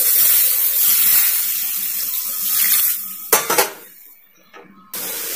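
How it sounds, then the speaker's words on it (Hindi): Water pours and splashes into a hot pan of fried spices with hissing sizzle, followed by a couple of metallic clanks of a utensil against the cookware. "अब हम इसमें थोड़ा सा पानी डालेंगे।"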